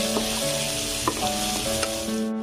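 Chopped onions with bay leaf and dried red chillies sizzle steadily in hot oil in a pan, with occasional scraping knocks of a spoon as they are stirred.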